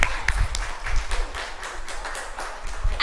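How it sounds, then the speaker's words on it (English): A small audience at a children's storytelling event gives brief, light scattered clapping, soft and somewhat sparse, without any voices. "Give them a big clap."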